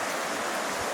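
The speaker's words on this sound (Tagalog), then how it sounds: "Tingnan natin yung pangpang. Ayan, ang ilog." A river near a hot spring in Baggao, Cagayan rushes past, a steady broadband flowing-water hiss with no pauses across the brief moment.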